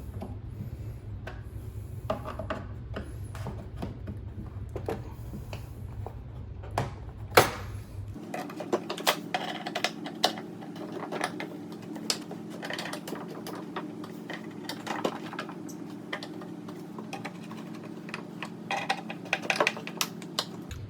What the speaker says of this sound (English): go ahead and give these a turn to the right, tightening them down